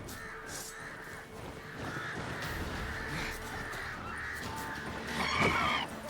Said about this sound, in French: c'est des oiseaux bizarres